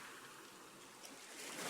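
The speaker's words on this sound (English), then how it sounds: "The sound of the sea becomes clearer now." Ocean waves wash against a shore in a steady broadband hiss of surf, soft and continuous, swelling slightly toward the end.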